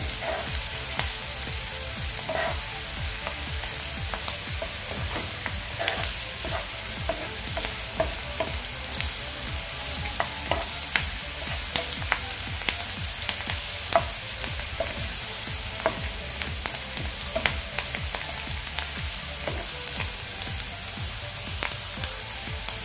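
Onion with curry leaves sautéing in a pan for bitter gourd bhaji, a continuous dense crackling sizzle punctuated by frequent sharp pops and occasional stirring scrapes, close and without speech.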